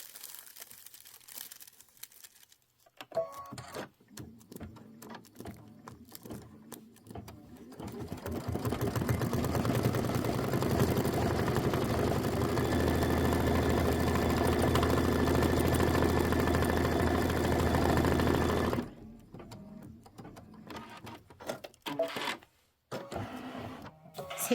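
A sewing machine runs steadily on a Kimberbell mini quilt design, a loud continuous mechanical whir lasting about fifteen seconds between quieter handling noises before and after.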